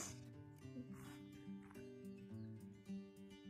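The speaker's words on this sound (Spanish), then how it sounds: "Tres cachorros que nos están haciendo compañía hoy." Three abandoned puppies at a reservoir near Huayapam, Oaxaca, yip and whimper in short bursts over a steady tonal background, close and moderately loud, with faint voices in places.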